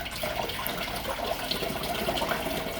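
Water poured from a bucket into a portable evaporative cooler, a steady close splashing gush that runs unbroken throughout.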